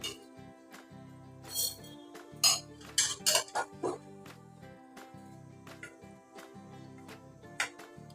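A spoon mixing roasted coconut into semolina in a metal pan gives irregular close clinks and scrapes, with a cluster of sharper taps in the middle, over faint background tones.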